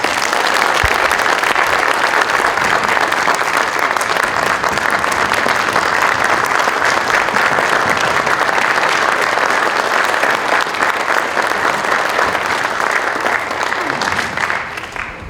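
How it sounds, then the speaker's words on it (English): Sustained loud applause from a large audience at a school district hall of fame induction, dense steady clapping that carries on throughout and only tapers slightly at the very end. "Please give them a huge round of applause."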